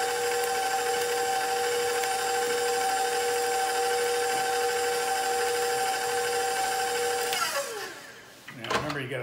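Eggs being whisked in a bowl with a steady electric mixer whir that runs loud and continuous, then winds down near the end, leaving a few brief clatters.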